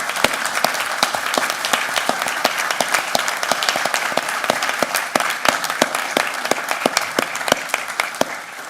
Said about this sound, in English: I want to lead us all in a tremendous round of applause for everything you've brought.